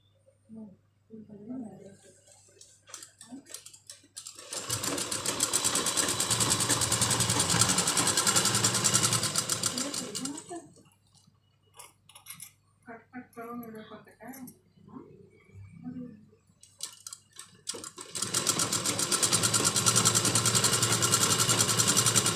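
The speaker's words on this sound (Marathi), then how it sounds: "खालच्या कप ब्लाऊजच्या पिसाच्या मापाने बिस त्याला शिलाई मारून घ्यायची" A sewing machine stitches the seams of a lined blouse in two long, steady runs. Quieter stretches with a voice talking come before and between them.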